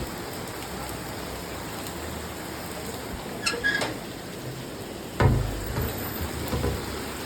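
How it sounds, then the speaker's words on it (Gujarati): Steady heavy rain hisses across the whole stretch, with a couple of sharper splashes or knocks standing out near the middle and end. "ફૂલ વરસાદ આવે ફૂલ"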